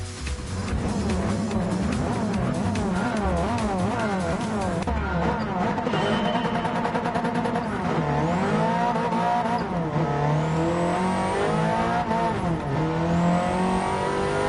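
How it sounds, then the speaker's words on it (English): An Intensa Group 3 road car races in the Gran Turismo 7 video game, its engine loud and close, revving up and down through repeated gear shifts with rising and falling pitch sweeps throughout. "So we got an Intensa Group 3 road car."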